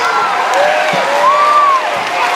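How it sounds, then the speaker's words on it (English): A school audience gives kindergarten students of the month a final round of applause for perseverance: a steady, dense crowd roar with whistles and cheers rising over it throughout. "Ladies and gentlemen, a final round of applause, our kindergarten students of the month for perseverance."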